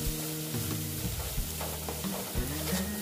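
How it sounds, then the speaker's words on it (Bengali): Masala for a pomfret fish curry fries in a pan, giving a steady close sizzle broken by scraping stirs of the spatula, with no voices. "একটু আবার ভেজে নিচ্ছি।"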